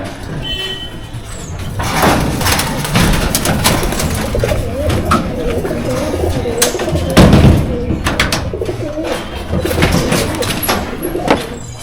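Champion high-flying Madrasi pigeons coo repeatedly close by, with fluttering wing flaps and scattered knocks throughout, and faint voices in the background.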